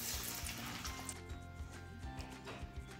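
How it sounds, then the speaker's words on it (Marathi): Mixed dal vadas fry in hot oil with a soft, steady sizzle and light bubbling, close but fairly quiet, no voices. "आपल्याला काय वड्यांची पुढची बॅच तळायला घालायची आहे"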